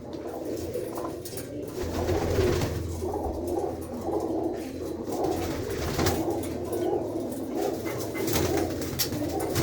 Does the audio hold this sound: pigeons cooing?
yes